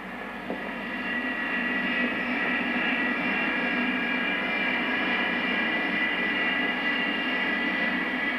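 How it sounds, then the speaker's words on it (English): A large airliner carrying hundreds of passengers, touching down and slowing on the runway, produces a steady broad engine roar that holds evenly throughout at a moderate distance, with no voices over it. "to handle the various controls which together will slow the aircraft."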